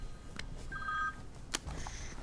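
A phone ringing: short electronic tones and beeps sounding in bursts, fairly faint over a quiet room.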